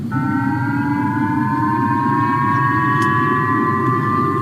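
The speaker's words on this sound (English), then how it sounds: "People in the northern region of Hokkaido woke up to these sirens" Civil defense air raid sirens in northern Japan warning of a North Korean missile launch: a steady, wailing tone holds loud and continuous throughout, with a low rumbling background beneath it.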